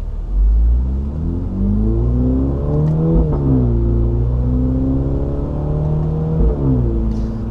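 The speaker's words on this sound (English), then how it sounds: "You can actually hear the car pop when you shift through the exhaust." Mini JCW GP3 engine revving hard in manual shift mode, the note climbing and dropping through several gear changes, with loud exhaust pops and crackles on each shift, close and continuous throughout.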